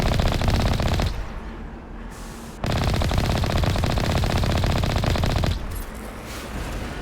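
Rapid turret gunfire in the Mass Effect video game on Virmire, loud continuous bursts that cut out briefly twice before resuming, with no talking.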